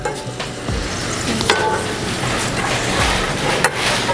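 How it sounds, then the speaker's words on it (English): Sugar melting in a hot pan while crepes are being prepared with spirits, giving a steady close sizzle and frying hiss with occasional stirring scrapes throughout, no talking. "The sugar is almost melted to a perfection."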